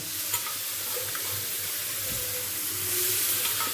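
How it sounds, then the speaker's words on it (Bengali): Boiled tarka dal goes into a pan of fried masala for Bengali-style tarka, giving a soft, steady sizzle with faint stirring and scraping, close and moderately quiet throughout. "এরপর দিয়ে দেব সেদ্ধ করে নেওয়া তরকা ডাল"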